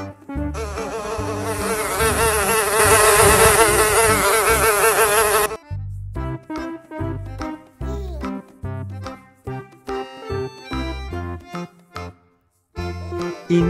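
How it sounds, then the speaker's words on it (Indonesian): A housefly buzzes in a loud, continuous, wavering drone for several seconds, then stops abruptly as rhythmic music takes over. "Ini adalah lalat."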